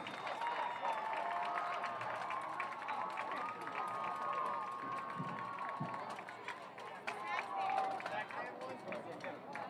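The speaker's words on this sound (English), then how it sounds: "Got one more round of applause for the Wayne High School marching band senior class." Distant stadium crowd at a high school football game applauding the Wayne High School marching band seniors, a broad continuous roar of clapping and cheering with voices mixed in.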